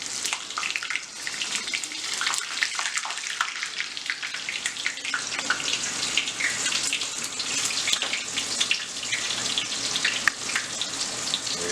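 Panko-coated chicken pieces frying in a hot pan give off a loud, steady crackling sizzle that runs unbroken from start to finish, with no voices over it.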